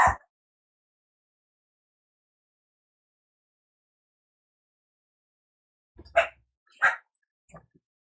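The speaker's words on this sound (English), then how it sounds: "Holy dogs." A dog gives a short bark, then after a long silence two more sharp barks and a faint yip follow, loud and close, with no talking.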